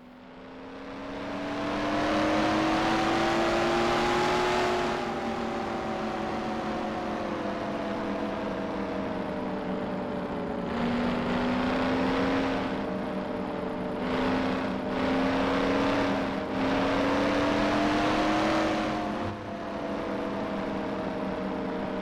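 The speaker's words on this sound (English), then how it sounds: "I'm sorry if the car is going to be loud" A loud, continuous car engine drone in the video game Mafia, its pitch climbing and dipping as it revs, steady throughout with no talking.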